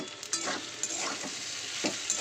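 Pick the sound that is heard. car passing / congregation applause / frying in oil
frying in oil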